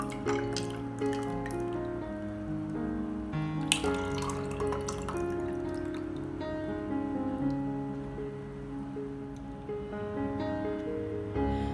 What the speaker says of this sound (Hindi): अब मैं गिलास में डाल के भी आपको दिखाती हूँ